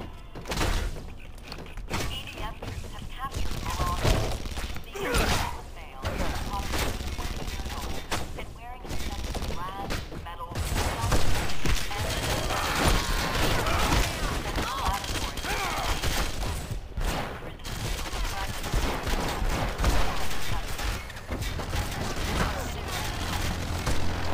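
Gunfire in the open-world game Red Faction Guerrilla: repeated bursts of shots and heavy thuds, loud and continuous through the stretch, with rattling automatic fire and intermittent talk beneath.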